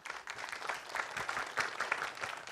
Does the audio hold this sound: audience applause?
yes